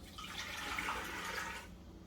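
Hot water pours in a soft, steady splashing stream into a pressure canner for canning pears, faint and close, stopping abruptly near the end.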